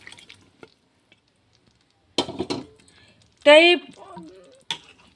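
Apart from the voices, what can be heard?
cooked drumstick pods stirred into masala in a pan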